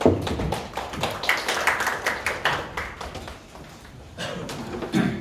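An audience at a Scan to BIM case-study seminar applauds as a presenter is introduced: a steady patter of many hands clapping for about five seconds, tapering slightly toward the end.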